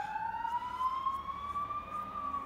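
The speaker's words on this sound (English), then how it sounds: "Excuse the sirens, there seems to be a lot going on out there." A siren wails in the distance, its tone rising slowly and steadily over faint background traffic rumble.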